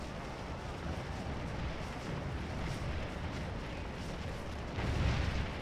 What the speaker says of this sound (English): That was a lucky canister fire at under 90 yards range.